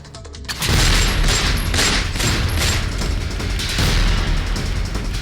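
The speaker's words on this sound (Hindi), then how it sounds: "अतीक अहमद का बेटा असद यहां पर फायरिंग करता हुआ भी नजर आ रहा है" Gunfire from a shooting in Prayagraj, caught in news footage: a dense, loud run of bangs and cracks that starts abruptly and keeps going throughout, with no talk over it.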